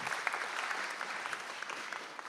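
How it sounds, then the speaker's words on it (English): Audience applause at a live show, a dense, even patter of many hands clapping at moderate distance, steady throughout with occasional sharper claps and no talking. "yes, round of applause."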